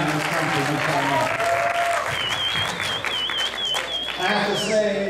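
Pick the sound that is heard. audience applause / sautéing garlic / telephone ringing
audience applause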